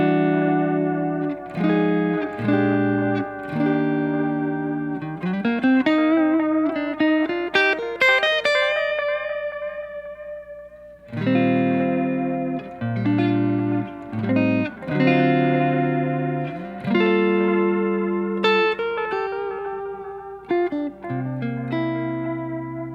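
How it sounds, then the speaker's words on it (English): Electric guitar run through a Walrus Audio delay pedal set for detuned, slightly pitch-wobbled repeats, playing melodic phrases that trail into wavering echoes, loud and alone without talk. "It takes the delay and it detunes it a little bit from the original signal."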